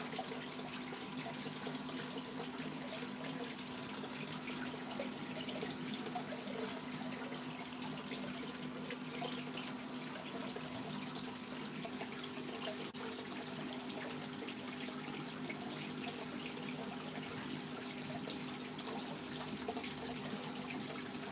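Steady trickle and splash of water flowing in a home aquarium, deflected by a piece of wood, heard as a continuous, fairly quiet, even stream with no talking.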